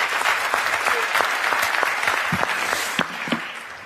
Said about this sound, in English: And now, well, the vote, and then round of applause,